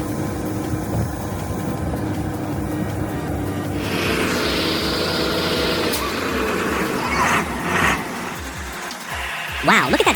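Scania 143 timber truck with a V8 engine rumbling, a low growl that swells and shifts, overlaid with air-brake-like hisses and mechanical clatter.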